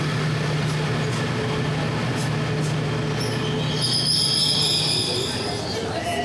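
Thai passenger train running from Chiang Mai to Bangkok, a loud continuous rumble of wheels on rails with a low hum, and metallic squealing rising toward the end.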